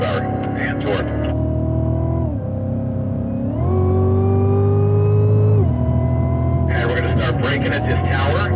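A Cadillac on a race track straightaway accelerates hard, its engine drone climbing steadily in pitch through gear changes, loud and continuous, with a voice speaking over it at the start and end.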